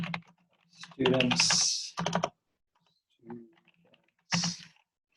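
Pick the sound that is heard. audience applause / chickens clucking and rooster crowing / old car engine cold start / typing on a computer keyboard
typing on a computer keyboard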